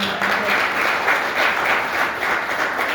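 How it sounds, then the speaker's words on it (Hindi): Loud, sustained applause from a crowd at a Sunday closing event fills the whole stretch, steady and dense, with no voices over it. "मैं चाहूंगी उनके लिए जोरदार ताली।"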